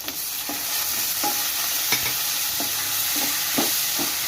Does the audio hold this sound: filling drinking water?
no